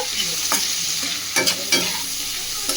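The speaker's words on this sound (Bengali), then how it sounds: "লবণ হলুদ দিয়ে আলুটা হালকা আমি ভেজে নিচ্ছি" Potatoes fry in hot oil with salt and turmeric, a loud steady sizzle broken by several sharp scraping stirs of a spatula in the pan.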